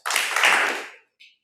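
A seminar audience gives a short burst of clapping that fades within a second, followed by a brief faint clap, with no talking over it.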